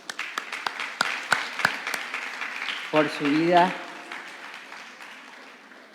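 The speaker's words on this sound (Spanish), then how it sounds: "vamos a darle un fuerte aplauso a Dios" A church congregation claps in a scattered, uneven way, with a few sharp claps standing out before a voice speaks over the fading applause.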